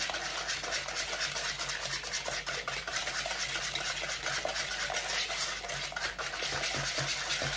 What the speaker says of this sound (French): C'est un fouet anti-grumeaux, c'est génial.